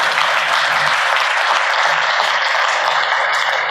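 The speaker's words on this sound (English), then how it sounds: "So let's give all of them a round of applause." A speaker-series audience in Knoxville applauds the event's sponsors with loud, dense clapping that is sustained steadily for a few seconds.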